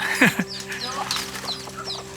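Flock of laying hens at a backyard farm clucking and squawking, a few sharp calls up front, then scattered softer clucks with some nearby chatter underneath.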